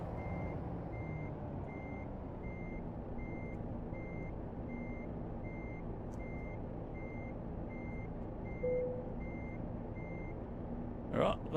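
Truck reversing alarm in American Truck Simulator, a steady series of evenly spaced electronic beeps repeating throughout over a low engine rumble, with a brief hiss near the end.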